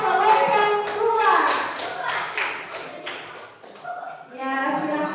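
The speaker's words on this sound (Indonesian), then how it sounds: "beri tepuk tangan untuk kelompok 2" A group claps for a team in a classroom-style session, with scattered, uneven claps mixed with voices and chatter throughout.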